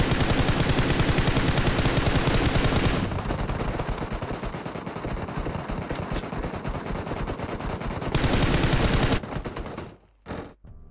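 Sustained rapid machine gun fire in a video game, dense and loud throughout, with a brief pause near the end.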